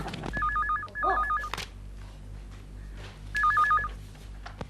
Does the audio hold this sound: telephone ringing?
yes